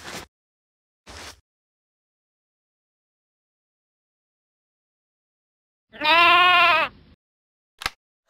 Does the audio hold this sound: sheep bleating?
yes